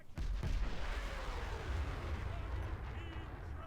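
Missiles launch from a Walrus-class submarine in War Thunder Mobile, a heavy booming blast followed by a long, loud rushing roar that slowly fades.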